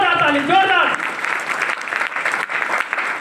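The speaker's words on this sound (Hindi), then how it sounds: "मिस्टर नितेश सर के लिए मैं चाहता हूँ जोरदार ताली, जोरदार।" An audience applauds Mr. Nitesh with a loud, sustained burst of clapping that starts under a voice and then carries on alone.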